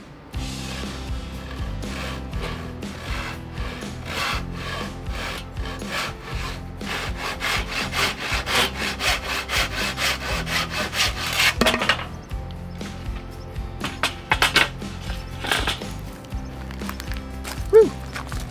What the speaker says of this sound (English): Since the power's out, gotta use a handsaw.